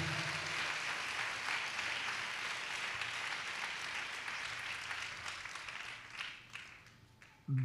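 Church congregation at a Telugu Christian worship service clapping loudly together in praise, a dense sustained wash of many hands that slowly thins and fades toward the end.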